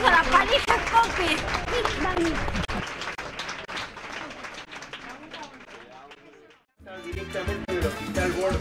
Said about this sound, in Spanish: ¡Aplausos a la pareja Cope!